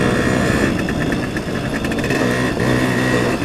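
A 1975 Suzuki RV-90 motorcycle engine runs loud and close, a steady buzzing two-stroke drone with slight wavering in pitch and a brief dip partway through, no voices.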